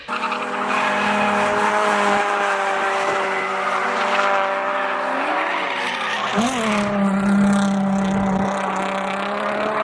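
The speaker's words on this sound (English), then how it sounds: "Here's 2 clips or 3 clips of me drifting my 240 that blew up." A Nissan 240 drift car roars at high revs with its engine, and tires squeal and skid through a slide. The sound is loud and sustained, with a sharp change partway through as the tires bite.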